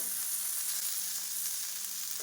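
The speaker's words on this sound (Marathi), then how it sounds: "या स्टेजला आपण एक चमचा जिरे घालणार आहोत" A spoonful of cumin seeds hits hot oil for a green chilli thecha and sets off a dense, steady hissing sizzle, close and constant throughout, with no voices.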